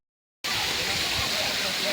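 Water flows and seeps at Lonar crater lake in Maharashtra with a steady, dense rushing wash close by. It starts abruptly after a brief silence, and no voices can be made out.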